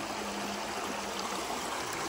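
River water flows in a steady, even rush outdoors, a continuous close wash of sound with no voices.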